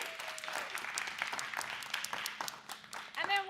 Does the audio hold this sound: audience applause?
yes